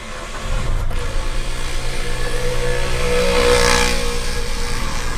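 A 2015 Datsun Go+ car engine starting up: a quiet start, then the engine catches about half a second in and settles into a steady, close idle hum that swells slightly midway.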